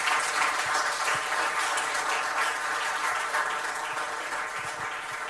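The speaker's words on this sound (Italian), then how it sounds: "Facciamo un applauso a Lui, a Lui." Steady, dense applause from a large group, continuous and fairly loud, fading slightly toward the end.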